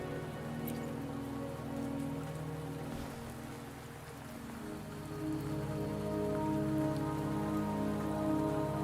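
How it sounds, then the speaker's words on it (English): Steady rain falls throughout an outdoor scene in the video game Wuthering Waves, a continuous soft hiss of drops on surfaces with game music humming underneath, moderately close and even in level. "Don't worry, the rain won't last much."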